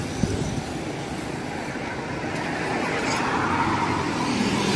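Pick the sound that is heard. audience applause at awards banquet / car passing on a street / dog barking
car passing on a street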